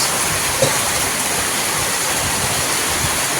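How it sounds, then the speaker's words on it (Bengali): Dense, continuous roar of heavy rain pouring down, loud and unbroken throughout with no voices. "কত সুন্দর বৃষ্টি হচ্ছে"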